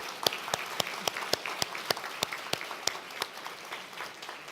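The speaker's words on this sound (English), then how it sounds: "applaud these outstanding young women" Sparse applause at a strawberry festival for two young women being recognized: a handful of distinct, sharp claps at a steady rhythm over a light background murmur, fairly close and moderately loud.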